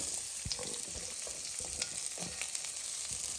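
Diced potatoes fry in hot oil with garam masala and red chilli powder, a close steady sizzle punctuated by quick spoon stirs and small pops.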